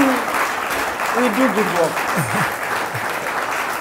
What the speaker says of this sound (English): Clap for us, please.